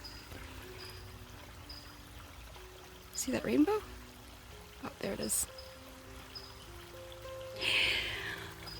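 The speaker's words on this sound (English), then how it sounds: "But this is still a natural creek." Steady running water from a small creek fills the background, with people talking briefly over it and a splashy burst near the end.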